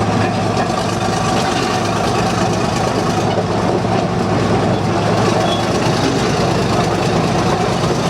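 The Unibog vehicle with a 453 Detroit diesel engine runs loud and steady nearby, a continuous heavy rumble with no breaks.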